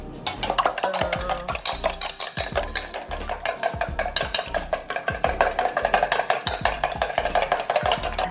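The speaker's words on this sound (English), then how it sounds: "we're gonna use this makeshift whisk for now." Banana bread batter with eggs beaten in a bowl using a makeshift whisk, steady fast clattering strokes against the bowl, close and loud, with no talking.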